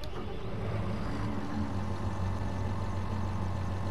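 Field Viper tractor engine in Farming Simulator 19 runs at a steady idle, a continuous low rumbling drone with no change in pitch or loudness throughout.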